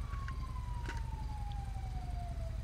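A police car siren wails steadily in GTA V, a single slowly falling tone over a loud, pulsing engine rumble, close and continuous with no talk.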